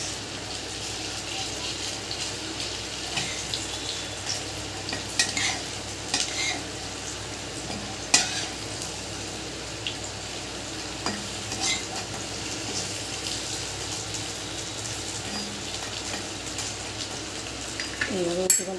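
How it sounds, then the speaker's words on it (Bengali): Banana flower pakoras fry in hot oil with a steady, close sizzle as they are turned over. Occasional clicks and scrapes from the turning utensil break through the hiss. "এইভাবে আমি উল্টে পাল্টে সব পকোড়াগুলোকে ভেজে নেব।"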